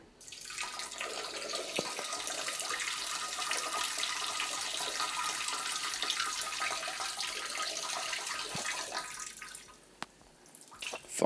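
Steady broadband rush of water runs for about ten seconds, like a toilet flushing or a tap running in a bathroom, then cuts off into quiet near the end.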